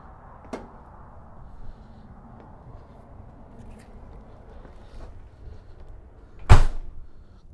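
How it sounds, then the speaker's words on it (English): An RV entry door on a Catalina 261BHS travel trailer is shut hard, giving one loud slam near the end after a stretch of quiet handling and faint knocks. "Close that door nice and loud."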